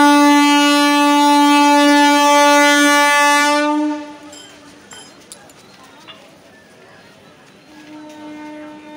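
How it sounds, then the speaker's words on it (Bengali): A departing train sounds a loud, sustained horn for about four seconds, then it stops. Quieter rumbling and clanks follow, and a fainter horn returns near the end while people talk in the background. "ট্রেন এই যে ছেড়ে দিয়েছে।"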